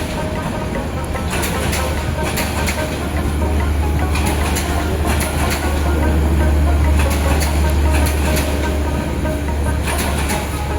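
Hawor Express passenger train pulling into a station in Mymensingh, Bangladesh, with a steady low engine rumble and rolling rail noise that holds loud and close throughout, broken by intermittent metallic squeals and clatter, with faint voices in the background.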